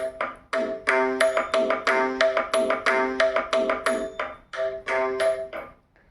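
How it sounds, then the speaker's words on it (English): A looping eight-count Bharatanatyam practice beat from an app, crisp pitched drum strokes, about two or three per second in a steady repeating cycle, with no voices. "So just like that, I got a beat which has 8 count"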